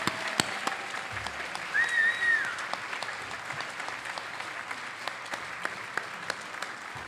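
Community audience at a 2023 appreciation celebration applauds outgoing Cultural Arts Commission members, a soft, steady patter of clapping with a few sharper claps, fairly distant and light.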